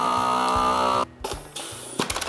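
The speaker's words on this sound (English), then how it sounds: "And the vacuum sealer does the rest." A vacuum sealer sealing a bag of fish: a steady mechanical pump whir for about a second, then a brief quiet and a few shorter buzzing bursts and clicks as the machine finishes, close and moderately loud.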